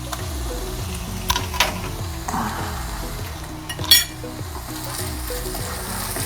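Red chili paste sizzles and fries in a sauce pan while making chicken lollipop, a steady crackling hiss with occasional stirring scrapes and a brief metallic clink, no talking.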